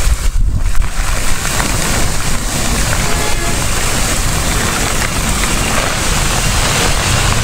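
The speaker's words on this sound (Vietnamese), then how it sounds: "gió nó thổi mấy cái cây này" Strong storm wind blowing through street trees in Phu My Hung, Saigon, during a sudden thunderstorm with rain, a loud continuous roaring rush with gusty buffeting against the microphone.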